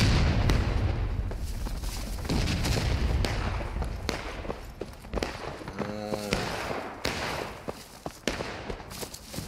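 Gunfire in a large Civil War PvP video game battle with hundreds of players, dense overlapping musket cracks and distant volleys rolling continuously, mixed with footsteps and a brief horn-like tone.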